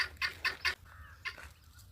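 Chickens in a breeding enclosure let out a quick run of sharp, close clucks, then a short pause and a few more, with no talking.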